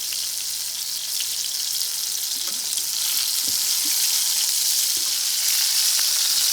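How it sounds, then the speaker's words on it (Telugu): Pieces of ridge gourd fry in a pan for chutney with a steady, bright hiss of sizzling oil, broken by small pops and faint stirring scrapes throughout. "ఇట్లా అన్ని పీసులు కూడా ఇట్లా టర్న్ చేసుకొని సెకండ్ టైం వైపు కూడా బాగా కాల్చుకోవాలి."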